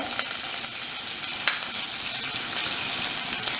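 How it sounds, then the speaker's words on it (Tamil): Mustard seeds with chana dal, urad dal and cumin crackling and spluttering in hot oil, a dense, continuous sizzle with sharp popping bursts, close and alone. "இப்போ கடுகு நல்லா பொரிய ஆரம்பிச்சிருச்சு"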